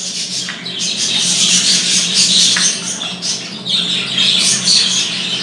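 Budgerigars in a breeding house chirp and squawk continuously, a dense, bright chatter of many birds close by with occasional sharper calls rising above the flock.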